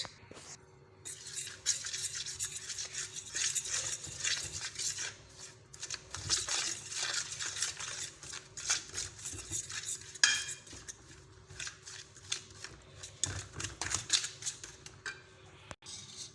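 A spoon stirs lemon juice into a chicken masala marinade for a steamed chicken leg roast, giving steady, close scraping and clinking against the bowl with soft wet squelches that continue throughout.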